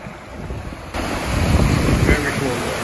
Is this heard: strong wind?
yes